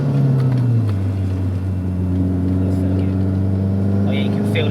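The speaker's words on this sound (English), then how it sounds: "Turbo makes a real good noise." Turbocharged Renault Megane 225 engine built to about 525 bhp pulls hard under acceleration, a steady loud drone with a rising tone, while people talk inside the car over it.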